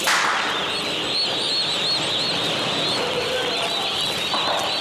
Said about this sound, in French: Maferima réceptionne des dindonos venus de la France.